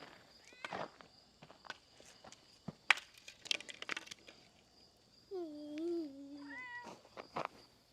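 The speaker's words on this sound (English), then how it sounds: "This is a new cat. It just showed up." A stray cat meows several times, the longest a clear drawn-out cry near the end, amid footsteps and small handling noises outdoors.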